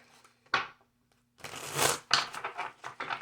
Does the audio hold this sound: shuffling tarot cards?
yes